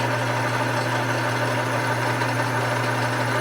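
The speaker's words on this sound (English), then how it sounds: "We'll fire the lathe up and kick it on." Metal lathe running on a steady, continuous mechanical hum with a constant low drone and even whirring, loud and close, with no talking.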